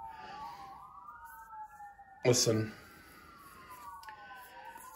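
Emergency vehicle sirens wail faintly in the distance in Albuquerque, their rising and falling tones running steadily beneath a brief spoken word and a short burst of closer noise.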